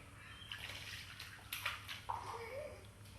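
Water poured from a cup over a six-month-old baby's face during a swim lesson, a brief splashing pour among soft sloshing in a pool, faint, with a little voice around it.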